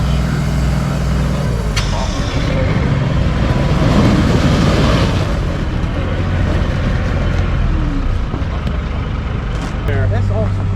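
A large wheeled tank-like vehicle pulls away with a heavy, loud engine rumble and rolling noise that runs throughout, as people talk over it.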